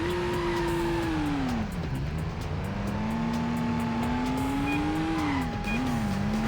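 A car in the Stuntman video game skids through a 180 handbrake turn, with a loud sustained tire squeal over a steady engine drone that rises and bends in pitch.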